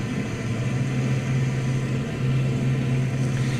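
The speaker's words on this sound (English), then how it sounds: "I'm going to push my RPMs back up" A WWII-era aircraft engine in the Cliffs of Dover flight sim, its RPMs being pushed up in flight: a steady, loud, droning hum with a low rumble that holds constant throughout, with no voices.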